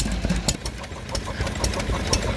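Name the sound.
Lister H stationary engine running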